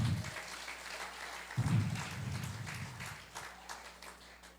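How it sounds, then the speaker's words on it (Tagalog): A church congregation at a Sunday celebration applauds, a faint, sustained patter of many hands clapping that swells briefly and then fades, with a few low voices beneath. "Malakas na palakpak sa Panginoon."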